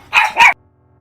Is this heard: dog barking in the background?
yes